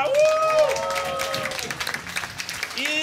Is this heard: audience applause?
yes